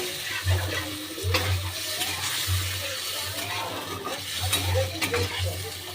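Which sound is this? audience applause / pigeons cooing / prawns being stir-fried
prawns being stir-fried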